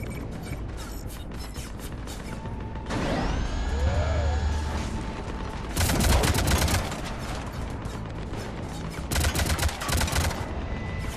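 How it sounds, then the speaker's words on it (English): Cannons fire in the video game Mass Effect 3, during the Omega DLC, in loud bursts of rapid gunfire and blasts around 3, 6 and 9 seconds, with whirring mechanical sweeps and sci-fi tones between them. "Cannons engaging."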